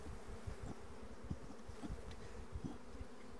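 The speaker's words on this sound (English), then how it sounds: "So let's shake these bees off." Bees buzzing as they are shaken off a drone trapping comb from a hive during a nectar flow, a soft continuous hum with brief louder bursts as the insects fly up, fairly quiet and with no voices.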